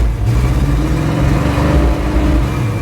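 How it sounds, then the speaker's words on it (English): The engine of a 1977 Chevy Monte Carlo revs while warming up after 20 years off the road, a loud, close, rough rumble rising and falling throughout. "gonna take it a couple minutes to get revved back"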